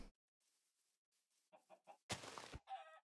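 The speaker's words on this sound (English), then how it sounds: "Let's kill the chicken." A chicken clucks in the video game Minecraft, a few short quiet clucks followed by a louder sharp squawk and a final cluck, close and isolated.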